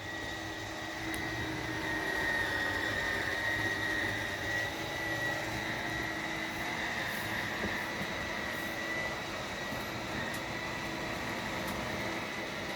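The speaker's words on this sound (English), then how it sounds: "That's the sound of the entire wall being expanding." A steady motor hum drones inside a 2021 Jayco Redhawk 24B RV as the slide-out wall expands, an even, unbroken whir held at moderate volume with no talk.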